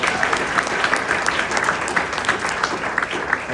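Steady applause from a crowd at a political meet-and-greet in Mason City, Iowa, dense and continuous clapping filling the whole stretch at a fairly loud level.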